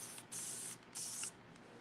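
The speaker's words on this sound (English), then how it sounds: "And then we're going to give her a spray." A spray bottle gives two short, quiet hissing spritzes in quick succession, each lasting about half a second, in an otherwise near-silent room.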